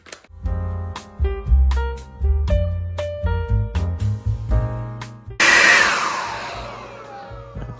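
A heat gun blasts hot air onto a Samsung Galaxy S7 phone during a clear back mod, starting partway through as a loud, steady broadband rush that overtakes the tonal background music playing before it.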